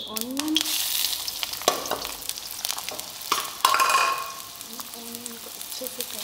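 Onion frying in hot oil for chicken karahi, a soft sizzle with spoon scraping and stirring clatter, a few brief clinks and tonal squeaks over the hiss.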